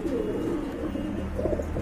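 Fancy pigeons at a seller's collection coo steadily in low, throaty murmurs, a continuous close cooing with no voices over it.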